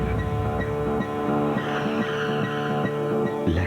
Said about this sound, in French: L'ardeur d'un nouveau moteur de 240 chevaux.